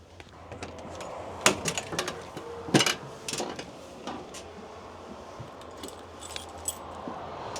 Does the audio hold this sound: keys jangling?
yes